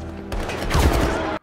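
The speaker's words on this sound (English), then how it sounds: "Oh, they getting shot." Gunshots in The Hunger Games film, a loud rapid fusillade of gunfire cracking in a dense burst for about a second before cutting off abruptly.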